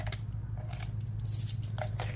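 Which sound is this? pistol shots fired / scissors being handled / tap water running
scissors being handled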